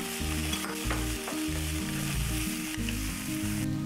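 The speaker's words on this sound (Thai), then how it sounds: "เสร็จแล้วใส่แครอทค่ะ ผัดให้แครอทนิ่มลงนิดนึงนะคะ" Ham and carrots are stir-fried in a pan, with loud, continuous sizzling and rhythmic scraping strokes of a spatula repeating about every half second.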